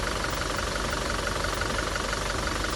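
A Toyota Innova Crysta engine with about 1.5 lakh km driven runs at a steady idle, a dense, even mechanical hum with no talk, constant in level throughout.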